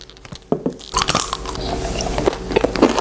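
A sharp crunchy bite of a crispy bean-filled Chinese latiao snack, followed by close, continuous crunching and chewing.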